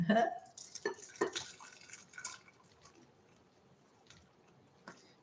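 Miso ramen poured into a bowl, a burst of splashing liquid and clinking against the dish that fades into a few scattered drips.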